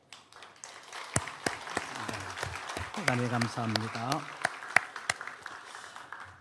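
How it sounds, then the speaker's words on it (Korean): A church congregation applauds to welcome two missionaries, a short burst of hand clapping rising and fading under a speaking voice, with several sharp separate claps standing out. "우리 박수로 환영하겠습니다"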